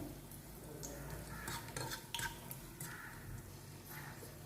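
Cashews and raisins frying in ghee in a pan, a faint soft sizzle with scraping and stirring clatter from a utensil, quiet and continuous without talk.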